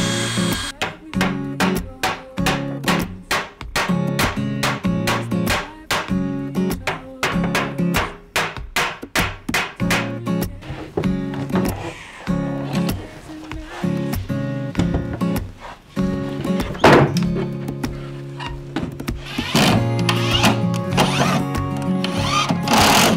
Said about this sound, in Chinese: 我会先用细钻头来做引孔